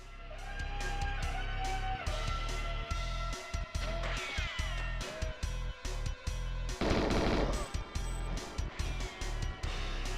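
Rapid gunfire in a Nintendo 64 game, repeated bursts of close shots broken by short gaps, loud over constant background music and game sounds.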